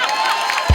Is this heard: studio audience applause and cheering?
yes